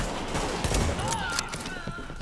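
Sniper rifle gunshots in the video game The Division crack over a dense bed of noise, with a brief voice underneath, then a faint whistling tone.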